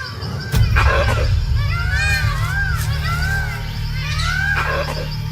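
Jungle monkeys in the trees give repeated rising alarm calls as a sentry warns of an approaching tiger, several voices overlapping against a steady low ambient rumble.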